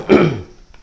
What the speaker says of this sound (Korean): 처음 기침이 나올 때는 뭐 며칠 이러다 말겠지 생각을 했는데 이게 지금 몇 개월째 이어지니까 죄송하네요